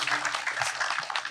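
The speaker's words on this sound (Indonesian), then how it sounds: "Tepuk tangan juga buat Mas Karim dulu" An audience applauds with dense, steady clapping for a speaker at an Indonesian talk on self-reflection, a brief burst without talk over it.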